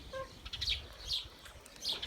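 A Denizli rooster and chickens in cages, a few faint, short clucks and chirpy calls spaced across a quiet background.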